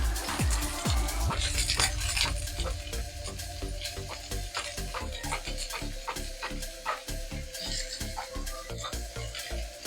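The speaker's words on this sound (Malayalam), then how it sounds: "എണ്ണ നന്നായി ചൂടായിട്ടുണ്ട് ഇതിലേക്ക് ഒരു സവാള കനം കുറച്ച് അരിഞ്ഞത് ചേർത്ത് കൊടുക്കാം" Thinly sliced onion hits hot coconut oil in a pan, giving a sizzle broken by a rapid run of sharp clicks and scrapes as the slices are stirred, fairly close and with no talk.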